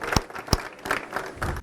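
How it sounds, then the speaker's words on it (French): Brief audience applause for Julien at a strobist flash-lighting workshop: a couple of sharp, close hand claps stand out over a short burst of scattered clapping that fades quickly. "un applaudissement à toi, bravo"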